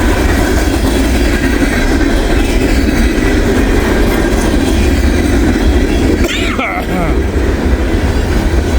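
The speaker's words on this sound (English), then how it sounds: "Big Conrail boxcar, big old 90 or 89 footer or whatever it is." A freight train rolls steadily past on a snowy day, hauling a long Conrail boxcar, about 89 to 90 feet, with a continuous loud rumble and wheel clatter and a short wheel squeal near the end.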